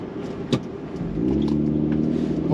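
A Jaguar XJS 4.0 pulls away from a stop, its engine note rising into a low, steady rumble heard from inside the cabin after a brief click.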